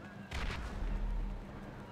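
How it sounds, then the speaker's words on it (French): An explosion in a GTA roleplay game: a single muffled boom, then a low rumbling tail, heard faintly at a distance. "Il y a eu de l'explosion."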